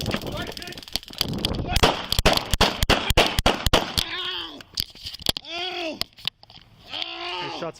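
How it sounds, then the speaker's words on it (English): A police chase erupts in a rapid volley of sharp, loud gunshots, and shouting and crying voices follow. "Shots fired."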